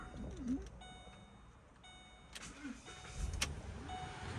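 A 2014 Ford Expedition Limited 4WD engine cranks and catches near the end, a faint, short low rumble in quiet outdoor surroundings.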